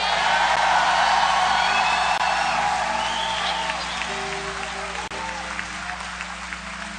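A large church congregation applauds steadily with scattered cheers and whoops during a service, the clapping dense and loud before easing slightly toward the end.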